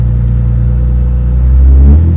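A tuned truck accelerates hard on a test pass, its engine rumbling loud and close, then climbing as the revs rise toward the end.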